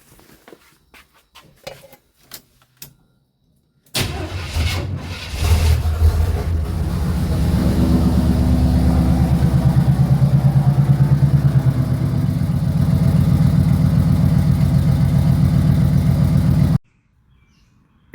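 A Chevy C30 crew cab truck idles loudly and steadily, its engine and exhaust rumbling continuously for about thirteen seconds after starting, with light clatter beforehand and no talk.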